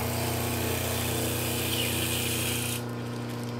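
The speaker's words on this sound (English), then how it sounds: "So now we'll shut the disc sander off." A motor-driven disc sander runs steadily with a loud, constant whirring hum and a faint abrasive rub, then its pitch and roar begin to drop as it is switched off near the end.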